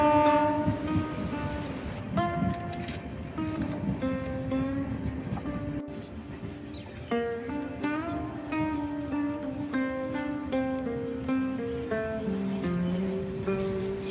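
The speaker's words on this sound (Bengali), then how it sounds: "ট্রেন চলেছে একের পর এক স্টেশন পেরিয়ে যাচ্ছে" A passenger train rolls along the tracks through the Singalila valley hills, a steady rumbling ride with tonal horn or whistle notes rising and falling throughout, heard from on board without talk.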